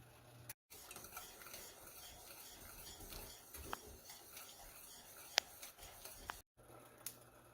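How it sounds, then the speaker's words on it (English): Olive oil heating and beginning to smoke in a cast iron pan while cooking salmon and risotto, giving a faint continuous sizzle with a few sharp isolated pops and light clinks. "my olive oil is popping a little bit. It's starting to smoke a little bit."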